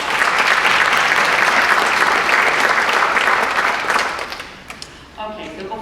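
An audience at a school program breaks into a long, loud round of applause that holds steady, then thins and fades as a voice begins near the end.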